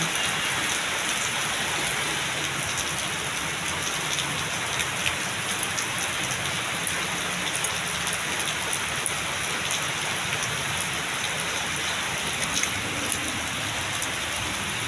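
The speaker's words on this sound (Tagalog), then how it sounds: "Grabe yung ulan." Heavy rain pours steadily on Aurora Boulevard in Pasay, a dense, even hiss of drops on surfaces with no pauses, loud and close throughout.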